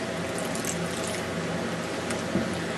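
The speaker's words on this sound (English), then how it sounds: "And then add maybe a little bit more water." Water poured from a tap into a batch of hand-made green chile, a steady, continuous running splash close by, with no talking.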